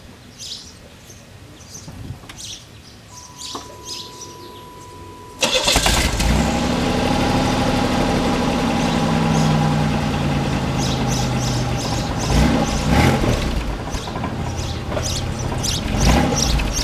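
A 1990 Buick Century engine running on a newly replaced muffler: a quiet outdoor scene with birdsong suddenly gives way to a loud, steady exhaust rumble that holds for over ten seconds, with a faint rattle from an exhaust hanger.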